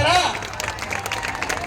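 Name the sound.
audience applauding the police department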